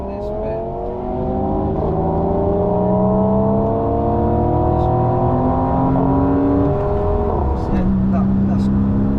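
An old Porsche Boxster driving on the Nürburgring, its engine droning steadily with rising pitch sweeps through the gears and a drop after each shift, heard from inside the car, loud and continuous, with occasional speech over it.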